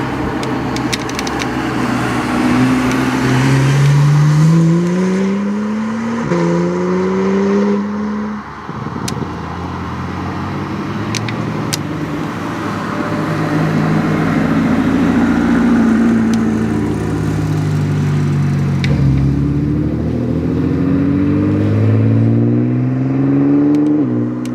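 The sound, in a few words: supercars racing at Curborough sprint course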